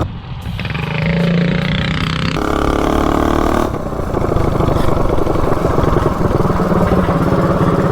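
Coleman mini bike with a 212 engine fitted with a Shred Head cylinder head runs steadily and loudly nearby, its engine note shifting partway through but holding a continuous throaty drone throughout.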